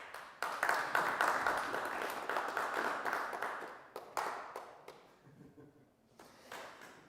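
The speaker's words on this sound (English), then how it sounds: "Big applause." A scattered round of audience applause at a web camp talk, sharp claps bunched at the start and fading unevenly, with a few isolated claps near the end.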